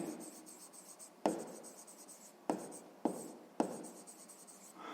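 A pen scratches out an equation on paper in short, steady strokes with a few sharper taps between them, close and fairly quiet, with no talking.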